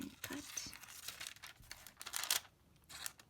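Paper corners being cut with scissors while crafting a multi-pocket folder, with crinkling and snipping throughout, close and fairly quiet, and faint voice traces.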